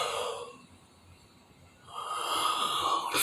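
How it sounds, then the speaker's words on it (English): A person yawns late at night: a breathy intake, a quiet pause, then a long airy exhale, close to the ear and with no talking. "I'm yawning."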